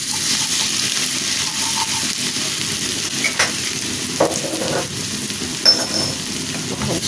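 Garlic and coriander frying in a pan for an okra and lamb stew, a steady close sizzle broken by a few soft stirring scrapes and clicks, with no voices.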